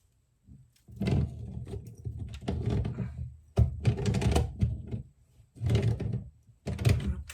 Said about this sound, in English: Put a wrench in there.